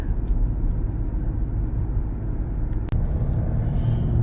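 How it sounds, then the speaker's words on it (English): A Ford Explorer ST cruises along a backcountry road with a constant low rumble of engine and road noise, heard from inside and steady throughout. "The free-spirited driving starting to happen in the Ford Explorer ST."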